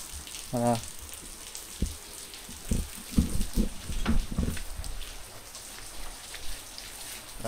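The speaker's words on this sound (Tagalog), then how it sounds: "Ambon na lang." Soft steady hiss of light rain falling outdoors, with a brief voice and a few scattered knocks and taps partway through.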